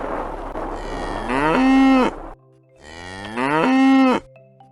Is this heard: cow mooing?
yes